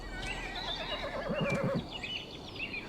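A video-game horse whinnies loudly with a wavering, descending neigh, followed by a brief snort-like tail; no voices are heard.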